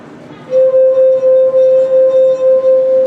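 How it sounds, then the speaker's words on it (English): A wet finger circling the rim of a drinking glass makes it sing, producing a loud, steady pure tone that begins abruptly and holds with a gentle pulsing wobble. "when you rub your finger around the top, you're making the glass vibrate"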